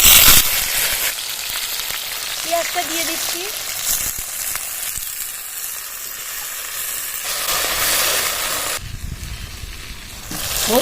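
Loud, steady sizzling of taro stolons frying in oil in a wok, with stirring and a brief spoken remark partway through.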